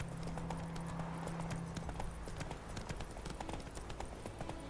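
Roach the horse in The Witcher 3 Wild Hunt, hooves clip-clopping in a steady walking rhythm, close and continuous, with a low ambient hum beneath.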